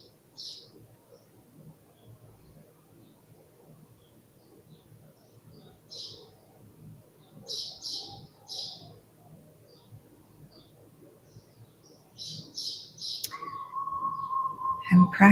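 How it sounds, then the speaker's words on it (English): Birds sing in a quiet outdoor setting: short, high chirps come in scattered clusters over a faint background, and a sustained tonal sound enters near the end. "As you listen to the birds while you're sitting at the side,"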